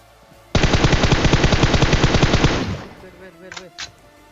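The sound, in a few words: gunfire in the video game PUBG Mobile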